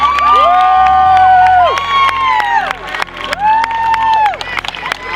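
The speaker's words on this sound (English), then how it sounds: "A nice round of applause, State College's Shannon Mullen" A crowd at a high school track and field meet cheers and claps, with loud whistles and whoops rising and falling over a busy background of applause and voices.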